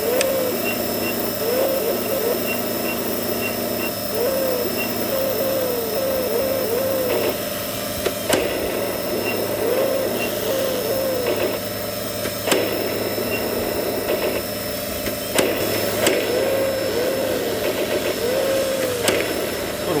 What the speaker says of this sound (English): let's get the helicopter in the air